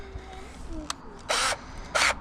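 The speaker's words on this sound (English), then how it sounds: "I'm going to go ahead and finish drilling this out." Two short bursts of power drilling holes in a fishing kayak, each about a quarter second, with a brief whir earlier and quiet room noise between them.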